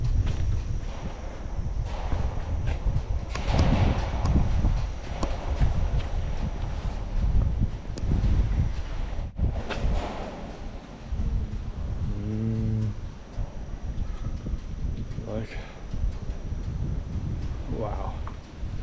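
Wind gusting at a cave entrance near Thakhek, Laos, a loud continuous rush buffeting the microphone, with voices talking over it and a few brief animal-like calls in the background.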